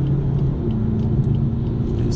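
BMW 4 Series with xDrive accelerating hard in sport mode, a steady, loud, close engine rumble from inside the car with no break in the drone.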